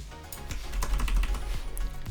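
Rapid, uneven clicks of computer keyboard keys come from close by as a short phrase is typed, with a low background hum underneath and no voice.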